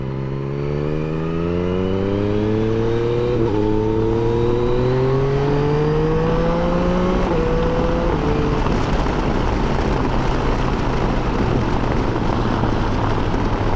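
Yamaha Tracer 9 GT+ motorcycle engine under way, pitch rising through several quick upshifts with a quickshifter, then settling into a steady roar with heavy wind noise, loud and continuous.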